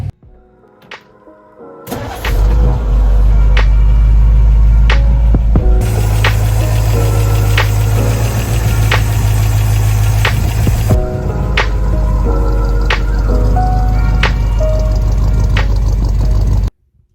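A 1962/1963 car engine, just running again after points ignition and timing repair, cranks briefly and catches, then idles loud and close with a steady throbbing rumble that briefly rises in pitch midway before settling back.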